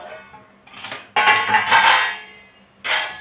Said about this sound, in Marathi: आपण झाकण काढून घेऊ